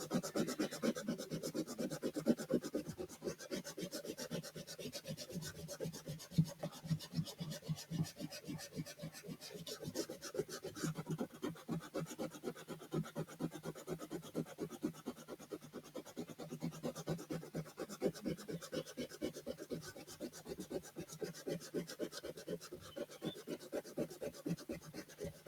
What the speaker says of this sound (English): erase all the pencil marks and the details